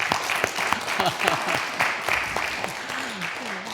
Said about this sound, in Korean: 우리 식사 준비하시느라고 수고하신 분들 위해서 박수 한번 더 하겠습니다